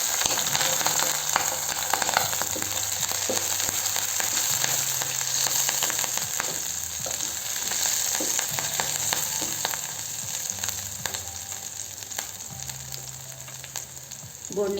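Cumin and chopped chilies fry in hot oil for fasting aloo bonda, making a loud, steady, close sizzle that carries on unbroken with a faint low hum underneath.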